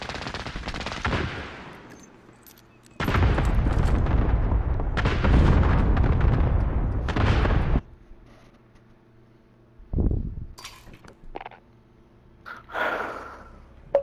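Gunfire and blasts from Call of Duty Warzone come in two loud sustained bursts with a shorter one between, followed by quieter scattered pops and thuds.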